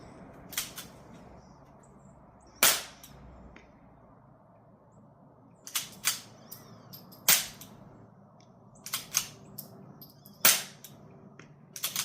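A B&T Tiger 22 suppressor fires CCI Quiet .22 rimfire rounds in about nine sharp, faint, separate cracks spaced irregularly over twelve seconds, each a quick snap against a quiet outdoor background.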